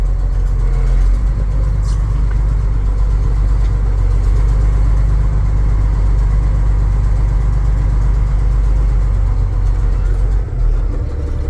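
A Kenworth automatic truck's engine idles with a deep, steady low rumble that stays loud and close throughout, with no one talking over it.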